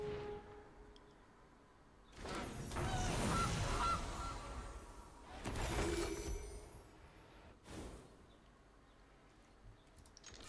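Goose honks from playing the Goose card in MTG Arena Historic Brawl: two loud bursts of squawking honks, one long and one shorter, stand out over a quiet game background.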